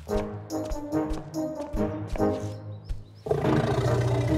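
An elephant in a cartoon trumpets loudly in several brassy blasts with short gaps, close and dominant, ending in a longer, fuller bellow.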